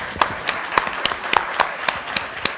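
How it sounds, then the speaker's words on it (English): Sparse, rhythmic clapping from a small audience at a training session: about ten sharp, close claps evenly spaced, with no talking. "Let's give them a round of applause"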